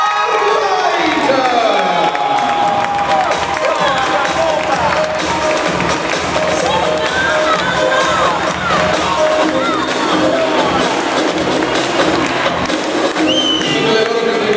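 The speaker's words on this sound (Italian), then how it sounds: "Un forte applauso per" A large crowd at a regional team competition cheers, whoops and claps as a team enters, a loud unbroken roar of voices and applause with shouted calls over the top.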